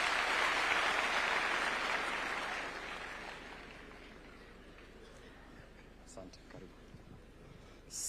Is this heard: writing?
no